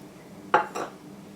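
Two quick clinks ring out close by as a utensil strikes a bowl while yogurt is mixed into flour for a paratha dough. Otherwise the kitchen is quiet.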